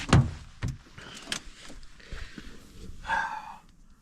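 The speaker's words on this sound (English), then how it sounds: "So I'm going to open the door." Rear door of a 2024 Honda Civic Sport opening: a sharp latch click up close, a few small handling knocks, then a brief swishing rattle as the door swings, with no voices.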